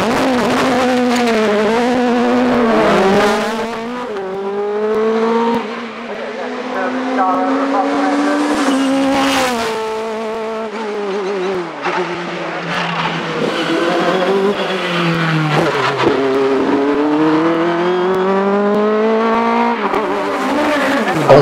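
Dallara race car climbing the Shelsley Walsh hillclimb, its loud, close engine screaming through repeated gear changes and revving rises and dips, with a brief tyre squeal and a commentator's voice over it.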